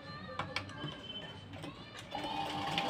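Sewing machine stitching a blouse, a close mechanical whir with light ticking that speeds up near the end, fairly quiet.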